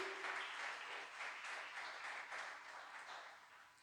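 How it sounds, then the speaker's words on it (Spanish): A church congregation claps in praise to God, a dense, sustained round of applause that swells early and gradually thins, heard somewhat distantly at low volume. "a ti te damos este aplauso glorioso al Dios que vive y que reina"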